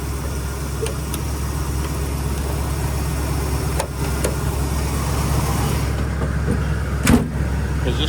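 A 1977 Jeep CJ-7 with a V8 engine idles steadily with the hood down, a constant low rumble close by with a couple of faint clicks and no talking.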